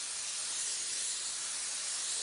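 Steady, continuous hiss of a paint spray gun laying down heavier coats while painting realistic flames on a vehicle, close and unbroken throughout with no talk.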